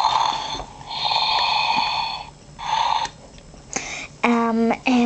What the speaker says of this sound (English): She'll snore.